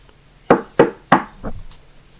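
Three sharp knocks on a door in quick succession, followed by a softer fourth rap, fairly close and loud against a quiet background.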